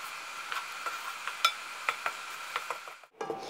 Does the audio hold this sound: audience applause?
no